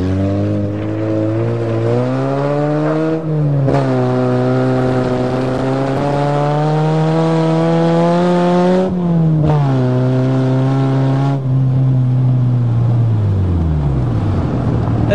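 A Toyota GTS engine revs up and down in long rising and falling sweeps as the car drives, loud and close, with brief dips between gear shifts and no voices.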